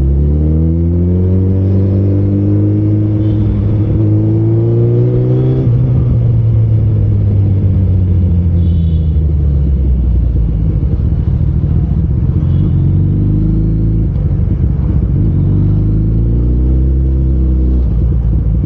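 Suzuki Hayabusa motorcycle on a ride around Chandigarh, the engine loud and close, rising through revs, dropping off, then climbing again with a rough, popping exhaust edge.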